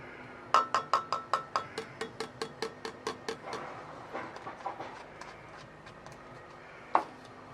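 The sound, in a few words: stirring glycerine and hot water with a stick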